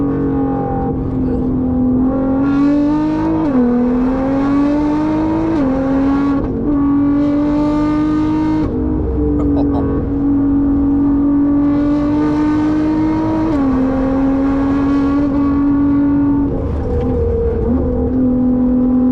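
A Nissan R35 GT-R screams at high revs on the Nürburgring, its engine note holding loud and close with sharp gear-change dips and brief lifts, heard alone without talk.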